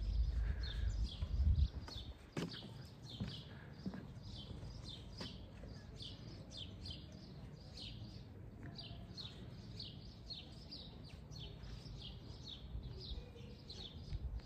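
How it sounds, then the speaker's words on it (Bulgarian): Birds sing outdoors around a quiet villa and townhouse complex in Sozopol, their repeated high chirps running steadily from start to end over a soft low outdoor rumble. "птичките пеят"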